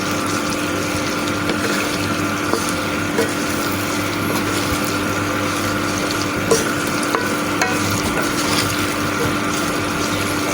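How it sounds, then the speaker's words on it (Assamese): Mango pickle with spices stirred in a pan, a steady close bubbling and frying hiss with occasional faint scraping of the spoon, no voices. "ভালদৰে এতিয়া অকণমান লৰাই দিম"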